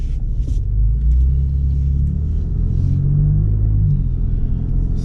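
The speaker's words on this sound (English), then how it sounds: "I'm gonna take the truck for a quick drive so you guys can experience that." A warmed-up pickup truck drives along, its engine a steady low rumble that swells slightly as it accelerates, loud and close throughout with no talking.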